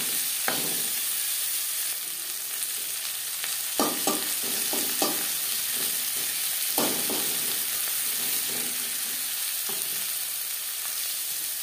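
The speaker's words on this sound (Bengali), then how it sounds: "পেঁয়াজ আমি একটু হালকা করেই ভেজে নেব" Sliced onions fry gently in a pan for a lentil dal, a constant soft sizzle with occasional spatula scrapes and stirring knocks.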